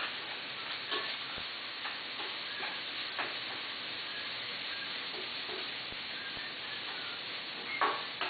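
Ginger, garlic and lemongrass are stirred as they fry in a pan. A steady close sizzle runs throughout, broken by light scraping taps from the stirring at irregular intervals.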